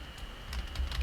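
Computer keyboard typing while writing PHP code, a few soft key clicks in a short burst that grows slightly busier toward the end, close and quiet with no voices.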